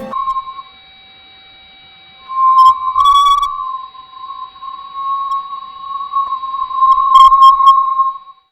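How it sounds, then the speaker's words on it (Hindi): NASA Parker Solar Probe sonified data on changes in high-charge particles, heard as a steady electronic tone broken by short, bright beeping bursts, loud and continuous with no voices. "ये तीसरी ऑडियो हाई चार्ज पार्टिकल्स में होने वाले बदलाव की आवाज है"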